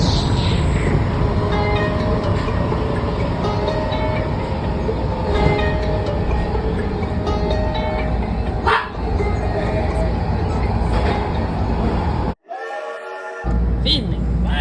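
A Washington Metro train running through a tunnel gives a loud, continuous close roar with steady tonal whine and occasional clanks, briefly dropping out near the end, while a voice speaks over it.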